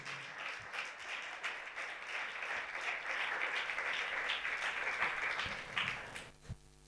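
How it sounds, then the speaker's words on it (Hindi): A congregation at a Pentecostal church's Sunday service claps steadily in a full, lasting round of applause. It builds to a strong level, then thins out and fades near the end, with no one talking over it. "आए जोरदार तालियां खुदावंद के लिए भी।"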